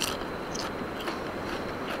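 Crunching bites into spicy seasoned fried chips, a quick run of crisp crackling chews up close, fairly quiet and without talking.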